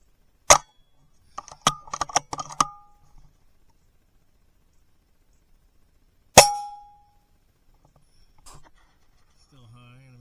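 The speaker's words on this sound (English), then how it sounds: "I'm shooting. Let's see if I can get it in that 1-inch circle." Sharp shots from an AGT Uragan .22 caliber air rifle firing 18.13 grain pellets at target range: one crisp crack near the start, a cluster of mechanical clicks from cycling, then a second loud report mid-clip, with quiet gaps between.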